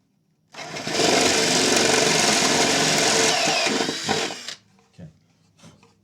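A power drill with a small Forstner bit bores into wood, a loud, steady whine for about four seconds that then cuts off, followed by a few faint knocks and handling sounds.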